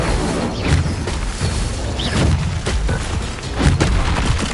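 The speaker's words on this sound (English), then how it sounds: "Incendio." An Incendio fire spell cast in Hogwarts Legacy erupts in a run of loud, dense booms and crackling blasts, repeated throughout amid combat noise.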